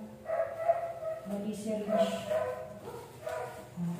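A 15-year-old dog named Coco whimpering and whining, with soft tonal cries repeating over a few seconds close to the recorder, mixed with a person talking throughout.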